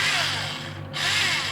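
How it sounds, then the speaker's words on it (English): A small model-kit drill powered by two AA batteries whirs at slow speed, a close steady motor whine that dips briefly then returns to full level. "it's actually a model kit, but it's a drill"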